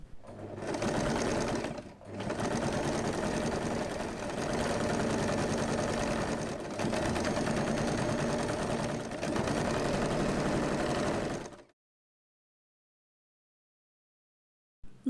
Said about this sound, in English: Sew these parts to secure the handles in place.